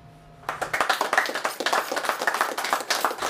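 Enthusiastic applause from a small gathering honoring a generous baker at a Cudahy bake shop, dense hand claps starting abruptly and continuing steadily at close range.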